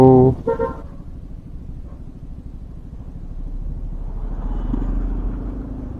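A car horn blares briefly at the start, then fades into steady traffic rumble and engine noise that swells slightly toward the end.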